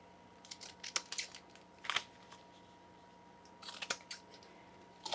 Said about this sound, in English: So I'm gonna use these scissors